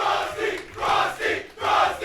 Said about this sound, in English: The crowd going insane.